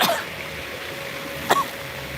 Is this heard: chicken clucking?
no